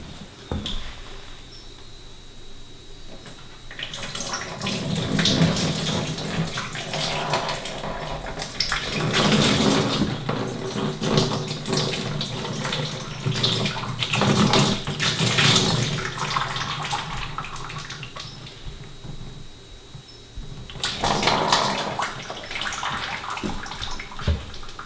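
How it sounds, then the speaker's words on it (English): Liquid crystalline glaze is poured over a ceramic bowl, a trickling, splashing stream that swells and fades in several long bursts with quieter dripping between them. "So as it dries out, I'm going to go ahead and pour some more."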